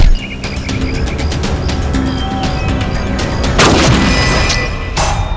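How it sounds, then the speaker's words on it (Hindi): Gunshots ring out outdoors in a TV crime drama: a sharp, loud crack lands past the midpoint and a second one comes near the end, over constant birdsong and chirping. "गोली किसने चलाई चेतन?"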